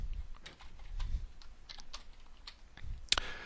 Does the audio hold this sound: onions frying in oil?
no